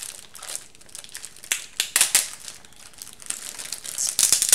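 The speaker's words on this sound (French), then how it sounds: "Là, il y a du papier bulle." Bubble wrap packaging around a candle order being unwrapped and handled, steady crinkling and rustling with sharper crackling bursts, close and alone.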